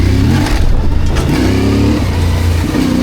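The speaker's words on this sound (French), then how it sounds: "un petit coup de gaz et puis hop" A trail motorcycle engine revs with a quick throttle blip while climbing a rocky off-road section, loud and close, the note rising and falling in a steady throaty drone.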